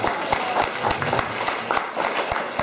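An audience at an elementary school orchestra and band concert claps, with scattered, uneven claps from a modest crowd forming a short, moderately loud round of applause.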